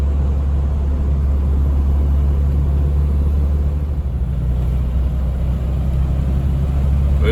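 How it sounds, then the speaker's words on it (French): Peugeot 404 engine running close by as a steady low rumble, with a gentle rise in revs as the throttle opens, a Ducellier regulator fitted, and no voices over it. "Et donc si on accélère un peu"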